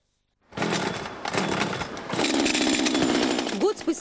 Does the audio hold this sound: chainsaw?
yes